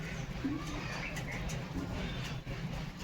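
A wild pigeon giving low, soft coos over a quiet background hum, fairly faint and unhurried.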